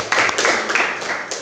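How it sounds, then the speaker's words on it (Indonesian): A school class of grade VIII students claps for a group in a mathematics lesson, a short, dense burst of hand clapping heard up close. "Yuk, tepuk tangan buat admin."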